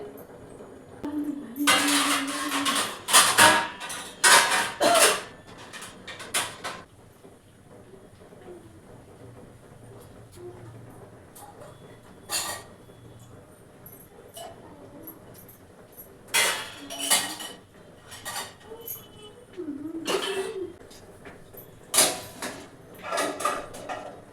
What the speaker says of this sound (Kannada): ಬೆಳಗ್ಗೆ ತೊಳೆದಿರುವಂತಹ ಪಾತ್ರೆಗಳನ್ನೆಲ್ಲ ನೀಟಾಗಿ ಸ್ಟ್ಯಾಂಡಿಗೆ ಜೋಡಿಸ್ಬೇಕು